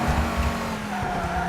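A racing car in TOCA Race Driver 3, a 1960s GT race, brakes hard into a corner, tires squealing in a sustained tonal whine over a loud engine drone, close and continuous without talk.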